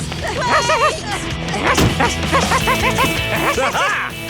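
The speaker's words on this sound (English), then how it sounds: "Another wild dog!" Cartoon wild dog barking repeatedly in quick yappy bursts, loud and close, with scuffling noises and a crash between barks.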